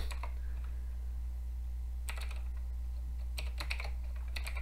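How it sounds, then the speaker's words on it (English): Typing on a computer keyboard during a game, a few short bursts of soft clicking keystrokes over a steady low hum, fairly quiet and without speech. "I have to type every now and then"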